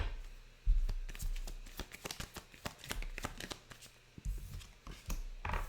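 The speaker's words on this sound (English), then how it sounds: "I'm going to pull you some love cards." Tarot-style love cards shuffled by hand for a reading, a close run of quick riffling and flicking card sounds in rapid bursts, with brief pauses, and no one talking.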